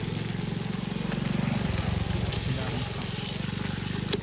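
Chicken frying in a pot, a steady crackling sizzle with a rhythmic bubbling pulse, while a person keeps talking over it.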